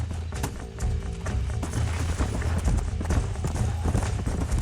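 Horses gallop in the video game Red Dead Redemption, a dense, steady drumming of hooves under a loud, busy game soundscape.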